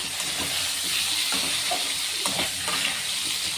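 Kovai kai (ivy gourd) sautéing in a pan with cumin, pepper and spice powder gives a steady close sizzle and hiss, broken by soft scraping and stirring sounds, with no talking.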